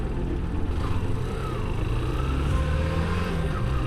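Yamaha YBR motorcycle engine running low on fuel, heard as a steady rumbling drone with a slight wavering in pitch, loud and close, no voices.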